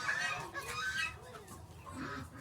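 A loose chicken clucks in a series of soft, irregular calls close by indoors among caged animals, with faint background noise and light rustling.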